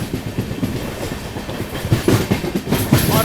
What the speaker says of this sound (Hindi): अपनी ट्रेन जो है अपनी ट्रेन है ना प्लेटफॉर्म से ही अच्छी खासी एक्सटेंशन कर चुकी है